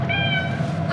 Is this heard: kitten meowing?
yes